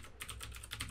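A short burst of typing on a computer keyboard, with about half a dozen quick, light key clicks in steady rhythm, close and faint against a quiet room.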